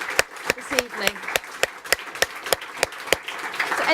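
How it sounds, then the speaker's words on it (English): Applause from an evening audience for three panel speakers, a run of distinct claps spaced irregularly, moderately loud and steady over a few seconds with no talk. "And a round of applause again for all three of them."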